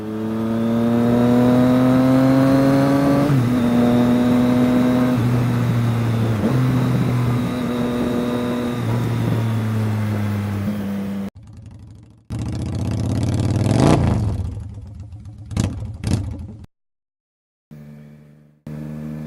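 A 2018 Triumph Street Triple motorcycle fitted with a Yoshimura Alpha T exhaust, close by, holds a steady idle for about ten seconds, then gives several sharp revs. Between the revs there are brief drops and a short gap of silence.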